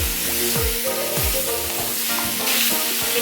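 Boneless chicken pieces going into a hot pan for Kerala-style chicken stew, a steady loud sizzle with scraping stirring strokes throughout, no voices.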